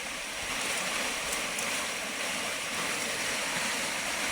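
River water flowing on a farm, a steady broadband rush of moving water heard at an even, moderate level throughout, with no talk.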